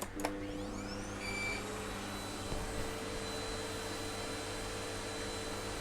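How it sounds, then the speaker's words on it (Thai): Household vacuum cleaner running steadily indoors, a continuous broadband whoosh with a low motor hum. It stays at a constant level throughout, with no one speaking. "เปิดเครื่องดูดฝุ่น"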